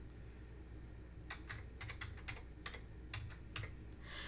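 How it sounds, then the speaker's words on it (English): Quick bursts of keystrokes on a computer keyboard, typing into a search bar, irregular clicks clustered in short runs over a steady low background hum. "Begin typing DynamoDB in the search bar"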